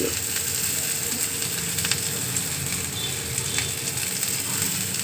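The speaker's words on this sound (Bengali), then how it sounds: "রসুন তো কমপ্লিট ভাজা এবার পেঁয়াজ আদা রসুন" Chopped onion, ginger and garlic sizzle in hot oil in a pan while cooking paneer butter masala, a steady close crackle with occasional clinks of a utensil and no talking.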